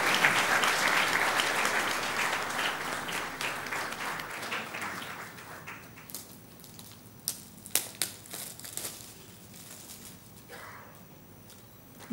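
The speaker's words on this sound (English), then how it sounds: "give her a warm round of applause as Swamiji blesses her" An audience gives a warm round of applause at a blessing ceremony, dense clapping that starts loud and gradually thins out into a few scattered claps and rustles.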